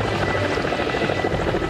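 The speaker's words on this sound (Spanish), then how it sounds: "El helicóptero que se utilizó para el rescate trasladó a grupos de 12 personas." A rescue helicopter flies over Antarctic ice, carrying passengers from a trapped ship to an icebreaker, its rotor giving a steady, loud, continuous thudding roar with no pauses.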